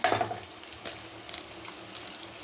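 Eggs are cracked into a hot pan holding onions and green chillies and fry with a soft crackling sizzle. A sharp burst at the start settles into a faint, steady hiss with small pops.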